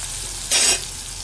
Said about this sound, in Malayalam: ഇനി ഒരെണ്ണം ഇരിപ്പുണ്ട് അതെടുത്തൊന്ന് പൊരിക്കാമെന്ന് വിചാരിച്ചു